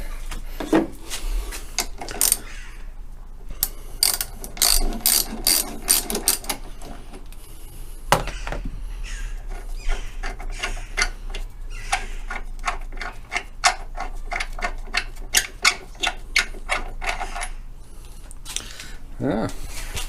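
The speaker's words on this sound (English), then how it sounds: "So let's undo the bolt" Ratchet clicking as a bolt is undone on a Ford Fiesta ST180, with rapid bursts of metallic ticks in repeated runs, close and fairly loud, alongside other workshop clatter.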